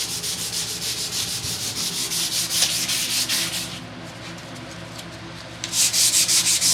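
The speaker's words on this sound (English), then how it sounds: "But I've already sanded that, which is funny, because that's why it's sanding well." Primer on a Nissan Skyline body being sanded by hand, a steady close rhythmic rubbing scrape in even strokes, pausing briefly before resuming at full pace.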